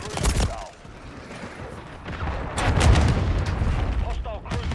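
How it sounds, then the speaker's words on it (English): A cruise missile strike in the video game Call of Duty: Modern Warfare 3 on the Rust map, heavy booming blasts mixed with rapid gunfire bursts, loud and close, with brief game voice callouts. "Hostiles launched a cruise missile."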